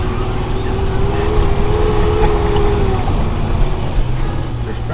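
Truck grinding slowly through mud in four-wheel drive, a steady low engine drone with bumps and jostling, loud and continuous throughout, with people talking faintly.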